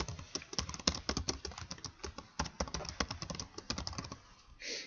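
Steady typing on a computer keyboard, a rapid run of close, crisp key clicks with uneven rhythm and no talking.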